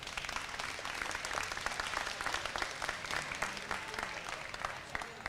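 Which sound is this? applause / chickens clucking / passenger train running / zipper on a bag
applause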